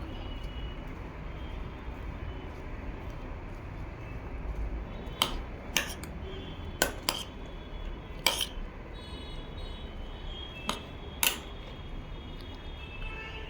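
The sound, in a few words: mixing vegetable sprout salad after adding lemon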